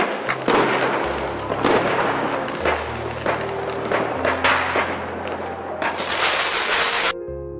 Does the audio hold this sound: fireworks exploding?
yes